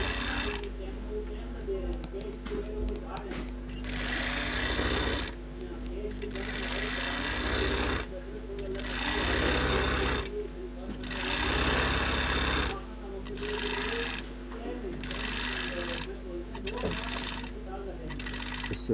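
A sewing machine stitches lace onto the edges of a dupatta in repeated bursts of rapid mechanical whirring separated by short pauses, close and fairly quiet.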